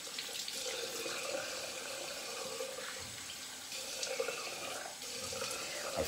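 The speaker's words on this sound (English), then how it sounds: "Let me finish rinsing." Tap water runs steadily into a sink during rinsing after a shave. The splashing flow is continuous and close, with no talking.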